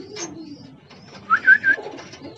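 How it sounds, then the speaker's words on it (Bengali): Lakha pigeons at a large farm of foreign pigeon breeds give a few short, fairly close coos in quick succession over faint background murmur. "এটা লাক্ষা কবুতর"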